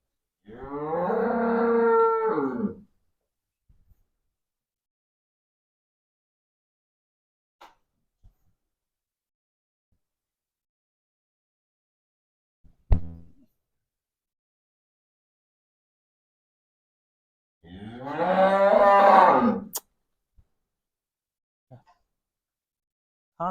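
A Jersey cow moos twice, each call long and resonant, separated by a long quiet stretch with only a few faint clicks.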